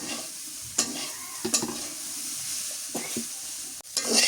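String beans and potatoes frying in a pan, with a few sharp spatula scrapes and stirring clatters over a quiet sizzle, heard close and alone.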